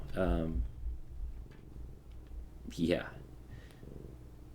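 A female cat purrs softly in the background, a low steady rumble running beneath a person's close-up talking.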